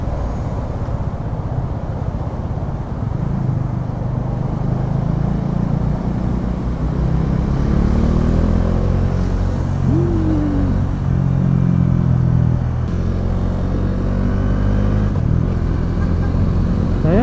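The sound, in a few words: Bajaj Dominar 400 motorcycle riding in traffic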